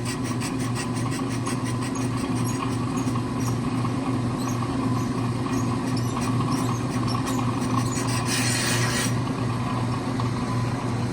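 On an accu-turn brake lathe, a warped StopTech brake rotor is machined with a continuous, close grinding rasp over a steady motor hum, its scraping texture constant throughout with one brighter hissing stretch near the end.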